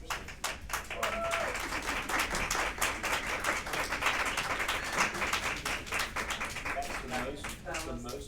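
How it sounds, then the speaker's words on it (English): Sustained audience applause fills a Senate education committee hearing room, dense steady clapping from a crowd that carries on for several seconds, with faint voices underneath. "That's the most applause I've ever gotten on anything."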